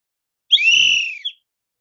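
Referee's whistle during a game, a single sharp shrill blast of about a second, close and loud, alone in silence.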